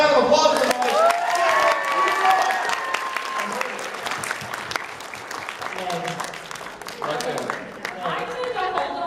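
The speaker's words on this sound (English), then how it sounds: "Give her a round of applause for that." An audience at a SakuraCon 2011 convention villain panel breaks into a round of clapping with some cheering, dense and sustained, while voices talk over it near the microphone.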